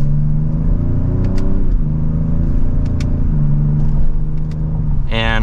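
A 2025 Ford Explorer ST accelerating hard in sport mode through second gear, its engine droning loud and steady from inside the cabin with rising pitch, a brief shift near the end.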